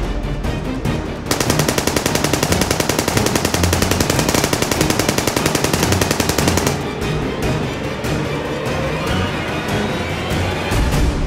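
A camera drone's small cannon fires plastic bullets in a rapid, machine-gun-like burst of evenly spaced clicks lasting several seconds, loud and close, framed by quieter rattling before and after.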